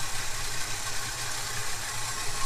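A Holden HK Premier wagon's engine idles steadily after a Holley carburettor float fix, a continuous low rumble with faint even pulsing and broad hiss, close and unbroken with no talk.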